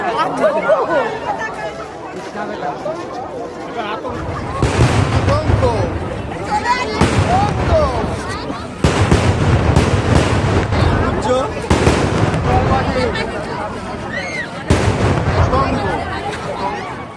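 Loud fireworks named Atonko burst over water in about five heavy booms, each followed by crackling, with crowd chatter running beneath throughout.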